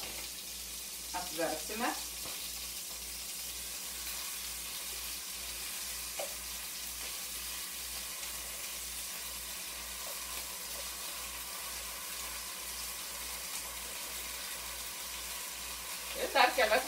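Salmon frying in a pan gives a steady, quiet crackling sizzle throughout, with brief utensil clatter near the start and again at the end.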